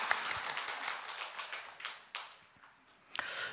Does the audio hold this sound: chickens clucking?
no